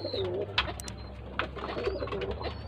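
Low, soft pigeon coos repeat in a gentle rolling rhythm against a steady background hum, with a few faint chirps mixed in.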